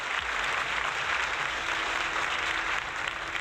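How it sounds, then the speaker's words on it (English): Steady applause from a crowd, continuous clapping that fills the whole stretch at an even level without breaks. "Big round of applause"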